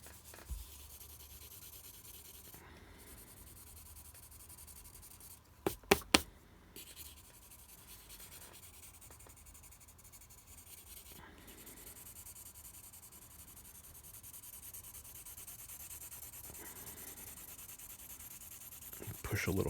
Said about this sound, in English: I'm going to just shade past it.